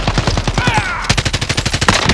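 Rapid automatic gunfire in the video game Call of Duty: Modern Warfare, loud and close, as a fast continuous burst of shots with a short electronic whine mixed in partway through.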